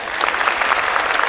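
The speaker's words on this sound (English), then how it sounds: "would you give them a hand of applause?" Brief burst of steady audience applause at a pops orchestra holiday concert, a dense, even patter of many hands at moderate loudness.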